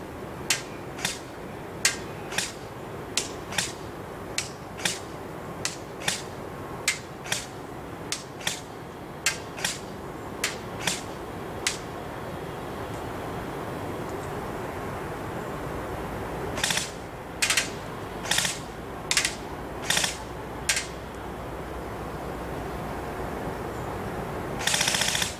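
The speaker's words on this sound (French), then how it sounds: "nous allons tirer 10 billes en semi, voir combien touche, 3 rafales de 3 et enfin pour terminer une petite rafale en auto" An airsoft replica fitted with an ASCU Gen 3+ electronic trigger fires BBs: about ten crisp, evenly spaced single shots, then short three-round bursts and a final quick full-auto burst, each shot a sharp mechanical snap in a quiet room.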